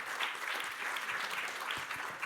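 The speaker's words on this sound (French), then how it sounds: "je crois qu'on peut vous applaudir" Audience applause at an innovation forum where presenters pitch in three minutes: continuous dense clapping from a room of people, soft and somewhat distant, steady throughout.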